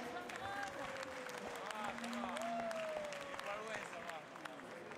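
Applause from a crowd at a Gascon cattle show in the Pyrenees, a spread-out patter of clapping with crowd murmur and a few tonal calls or animal sounds on top.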